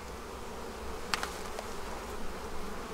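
Honeybees fly around an open hive while a colony is split by the Demaree method, giving a faint, steady buzz with a few brief closer passes.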